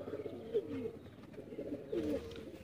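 Chhatri pigeons coo softly nearby, two rolling coos about a second and a half apart over a low, quiet background.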